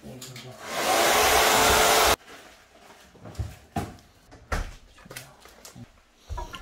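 A handheld hair dryer roars loudly and steadily for about two seconds while someone dries their hair for volume at home, then cuts off abruptly, leaving scattered thumps, handling noises and faint voices.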